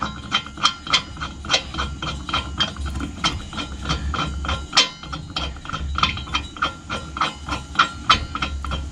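A hand ratchet with a socket spins a bolt into place on a vehicle repair job, giving a steady run of close, crisp clicking pawl strokes in quick bursts with a faint hiss behind, and no talking.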